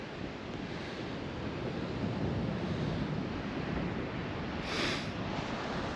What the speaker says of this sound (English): It's quite windy and quite breezy